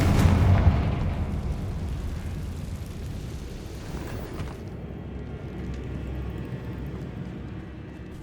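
Confringo spell blast in Hogwarts Legacy, a loud booming explosion at the start that rolls into a long rumbling decay and fades.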